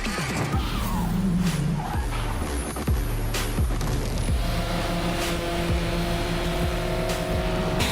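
Drift cars at a Formula Drift professional round in New Jersey roar and rev loudly and continuously, with tires ripping and engines bouncing off the limiter amid crowd noise.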